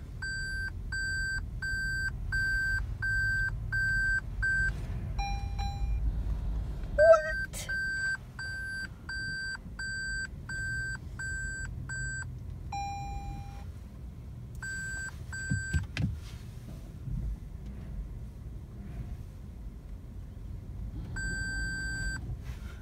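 A 2019 Toyota Prius AWD parking assist chimes in steady repeated electronic beeps while reversing during automatic parallel parking, with occasional different-pitched tones and a low cabin hum underneath.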